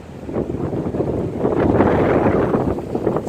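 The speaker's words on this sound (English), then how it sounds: "It's very windy." Strong wind gusting beside the Bay River near a bridge and shrimp boats, a rough continuous rumble buffeting the microphone and swelling louder toward the middle, with no voices.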